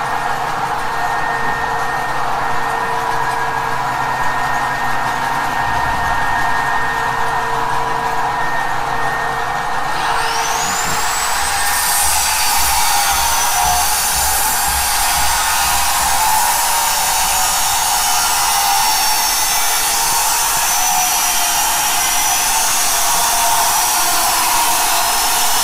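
A so-called free energy motor generator linked to 20 kW and 10 kW units runs at very high speed, giving a loud, steady mechanical whine and hum that rises in pitch and brightens partway through, with no talking.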